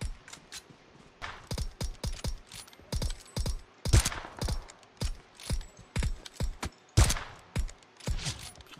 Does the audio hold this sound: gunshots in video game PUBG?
yes